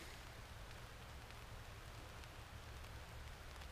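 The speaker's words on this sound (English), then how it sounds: "It's starting to sprinkle out there" Light rain patters steadily on a camping tent, a soft, even hiss of drops with no one talking.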